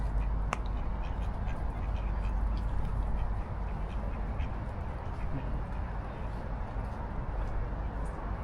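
Ducks or similar waterbirds quack beside a lake in Stockholm, their calls mixed into steady outdoor ambience with wind and background noise. One sharp call stands out near the start.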